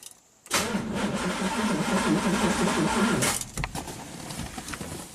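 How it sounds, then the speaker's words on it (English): A classic Corvette engine cranks and catches at about half a second, then runs loud and steady for roughly three seconds before cutting back to quieter, uneven noise. "So let's start the engine up and close the cowl."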